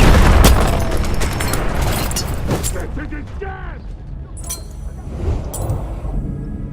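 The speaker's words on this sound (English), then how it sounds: "Grenade out!" Grenade blast in the Battlefield 1 video game, a loud close boom at the start with rumbling debris and scattered clinks, followed by distant gunfire, mechanical clatter and further faint bursts of battle noise.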